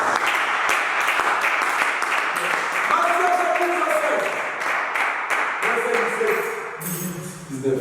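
A church congregation claps and cheers in sustained applause acclaiming Jesus, loud and dense, with voices rising over the clapping.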